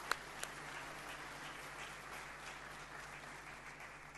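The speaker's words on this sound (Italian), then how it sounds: "vogliamo accoglierla con un applauso" Distant applause from a church congregation at a Sunday gospel service, a faint, steady wash of clapping heard from far off, with a couple of sharper claps at the start.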